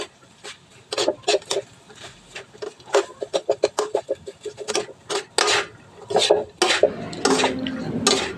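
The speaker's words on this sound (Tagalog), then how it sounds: "Mix lang natin ng maigi para maging fried yung pagkaluto nito." Beef and vegetables stirred and fried in a pan for chao pan, with quick repeated scrapes and clacks of a utensil against the pan over a soft sizzle, close and rhythmic, with a voice speaking at times.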